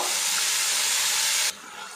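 Spice-mixture water poured into a hot pan of softened tomato and onion hisses loudly and steadily, then cuts off sharply to a quieter simmer.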